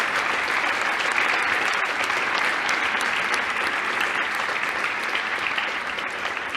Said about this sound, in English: I would like to invite you all to give a round of applause to our distinguished guest here.